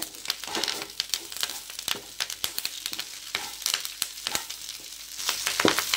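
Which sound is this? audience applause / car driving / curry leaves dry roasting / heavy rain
curry leaves dry roasting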